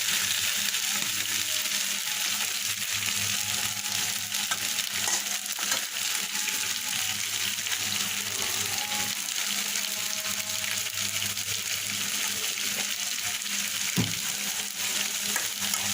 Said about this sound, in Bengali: পেঁয়াজটাকে একটু বাদামি করে ভেজে নেব।